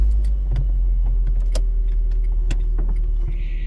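A car driving along, its steady engine and road rumble filling the cabin from inside, with small rattles and clicks like jangling keys over the continuous low drone; no one speaks.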